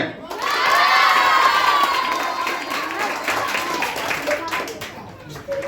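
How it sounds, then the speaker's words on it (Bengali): A school audience at a Bengali New Year event bursts into loud clapping and cheering for a student's song, with children shouting and voices mixed into the crowd, fading slightly toward the end. "এই জন্য ওর জন্য তালি হবে।"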